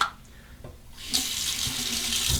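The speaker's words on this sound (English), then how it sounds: "Let's do a final rinse. It's hot then cold water." Tap water runs steadily into a sink for a final hot-then-cold rinse after a shave, starting with a few faint drips and knocks before a full, continuous stream gushes close by.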